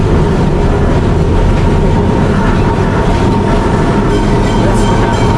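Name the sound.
old heritage tram running in Calcutta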